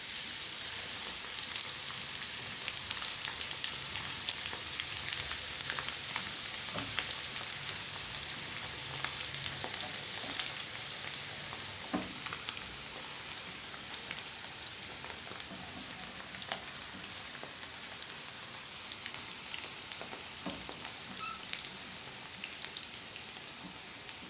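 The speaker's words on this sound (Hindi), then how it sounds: "ये भरपूर तरीके से फ्राई हो रही है" Moong dal frying in hot oil for crispy namkeen, a continuous bright sizzle and crackle with scattered pops, steady and close, with no talking.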